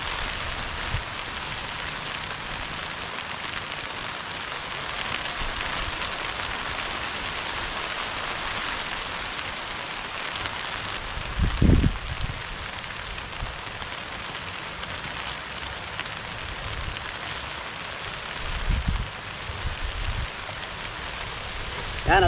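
Steady rain pours down on a surface, a dense, even hiss lasting throughout with a couple of brief louder thumps partway through.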